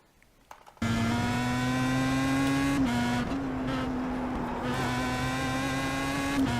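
A Pro Mazda race car engine howls at sustained high revs around the Belle Isle street circuit in Detroit, held hard on the throttle with a brief dip as it shifts, loud and close throughout after a quiet start.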